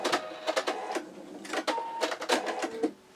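A sewing machine stitching a quilt block over its seams, running in short bursts of fast mechanical chatter with brief pauses between, close and fairly loud, ending in quiet.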